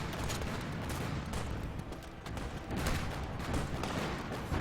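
Constant artillery fire in a strategy game booms in a dense, continuous barrage of overlapping blasts at a fairly even level throughout.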